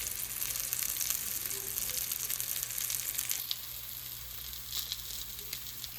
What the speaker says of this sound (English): And then I'm going to go sear them.